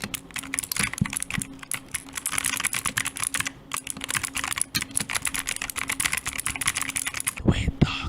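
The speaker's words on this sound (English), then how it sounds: "Suddenly, everyone wanted that perfect thok sound in their typing videos." Steady, rapid typing on a mechanical keyboard, with deep, muffled thocky keystrokes clattering continuously up close for the whole stretch.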